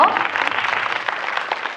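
Audience applause at an Asia Tour concert fan event in Thailand, a brief burst of crowd clapping mixed with cheers and a voice at the start, continuing evenly.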